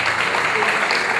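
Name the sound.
applause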